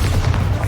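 Bombarda blast spell detonating in Hogwarts Legacy, a loud, close, muffled boom that fills the short moment with a deep, sustained rumble.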